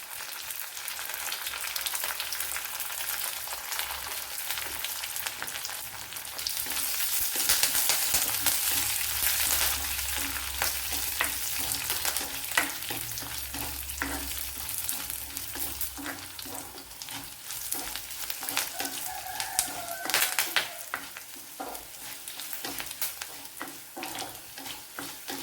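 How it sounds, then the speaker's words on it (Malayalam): Curry leaves and dried red chillies fry in hot oil, a steady crackling sizzle with sharp pops and spatter, moderately close and continuous, with occasional stirring and no voices. "ശകലം കറി ലീവ്സ് ഇട്ട് കൊടുക്കുക. 2-3 വറ്റൽമുളക് ഇട്ട് കൊടുക്കുക."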